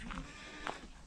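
A Boer goat bleating close by on a farm, two short wavering calls over a steady low background hum.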